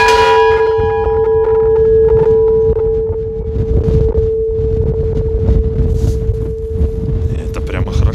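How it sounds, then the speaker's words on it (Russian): A ship's bell aboard the cruiser Mikhail Kutuzov, moored at Novorossiysk, rings out clearly with a long, sustained metallic tone that lingers and slowly fades, with outdoor background noise and some voices around it. "Вот так звонко и мелодично звучит наш корабельный колокол."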